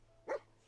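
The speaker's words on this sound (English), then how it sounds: "Oh, great. I've got a dog." A single short bark from a dog in the Fallout 4 video game, one quick, fairly faint yip against a quiet game background.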